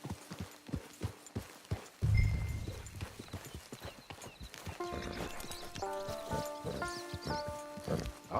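Steady clip-clop of horse hooves at a walking pace in Red Dead Redemption 2 Online, with a brief whinny and game-style music tones rising in the background.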